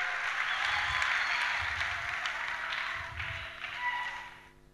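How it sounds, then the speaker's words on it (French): A worship seminar audience claps and cheers for the Lord, sustained applause with a busy patter of hands, fading out near the end. "Acclamez pour le Seigneur."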